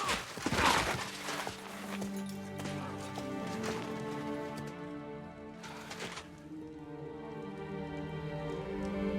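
Horse hooves clopping with a neigh in the Kingdom Come Deliverance 2 video game, under layered ambient game sound and occasional louder impacts, moderately near.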